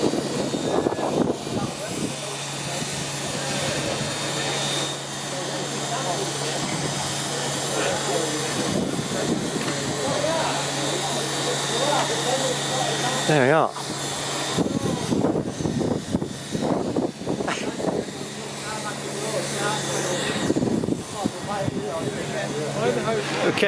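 Steam locomotive 45996 Bahamas stands at Gloucester station, giving off a steady, broad hiss over a low hum, with occasional bursts and a voice speaking nearby.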